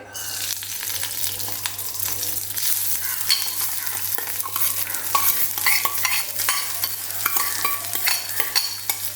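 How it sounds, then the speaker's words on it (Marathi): Rice sautéing in a kadhai for rice kheer, a loud, continuous sizzle with dense scraping and stirring strokes, heard close and without any talk. "आता ह्याच आपल्याला कढईत आपले तांदूळ सुद्धा परतून घ्यायचे आहेत"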